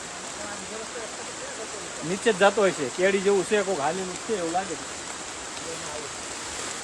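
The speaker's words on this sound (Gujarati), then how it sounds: "વરસાદ તો ભૂકા કાઢવા મળ્યો છે" Steady, dense heavy rain hisses throughout near Anjani Waterfall in Saputara, Gujarat, with a voice talking over it briefly in the middle.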